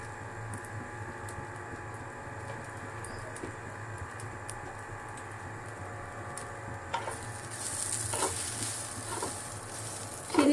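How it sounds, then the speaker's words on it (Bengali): Rice for sweet yellow pulao frying in a hot pan, a soft continuous sizzle with scattered clicks and scrapes of stirring, growing busier and louder toward the end. "চালটা একটু ভাজা হোক"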